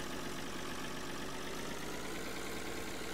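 A harvester engine in Farming Simulator 2013 revs at high, constant pitch, a dense steady mechanical drone with no talk, sustained throughout.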